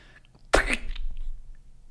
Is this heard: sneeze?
yes